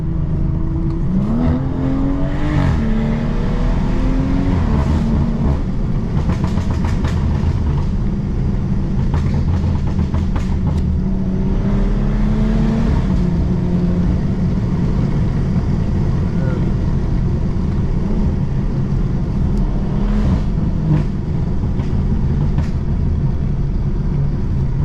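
A straight-piped BMW 340i driving hard in Sport Plus mode, its loud, raw exhaust droning and rising as the revs climb, steady and close throughout with brief surges, no talking.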